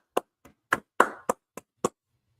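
Seven separate hand claps at the close of a Sabbath service, sharp and close with uneven spacing. One clap carries a slightly longer ring.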